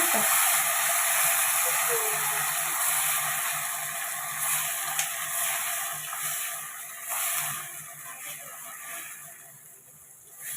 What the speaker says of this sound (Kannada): ಟೊಮೆಟೊ ಹಾಕ್ಕೊಳ್ತೀನಿ ಚೆನ್ನಾಗಿ ಫ್ರೈ ಮಾಡ್ಕೊಳ್ವಾ